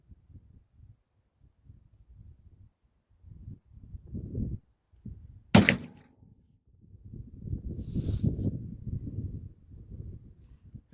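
A single sharp gunshot from a light Traditions Buckstalker XT muzzleloader rifle, fired on a 25-yard range, cracks out loud and sudden amid quiet rustling and shuffling before and after.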